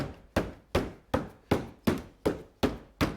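Plastic headlight lens on a 2008-2009 Subaru Legacy being hit into place by hand, eight sharp, evenly spaced knocks about every 0.4 seconds, close and clear with no talking.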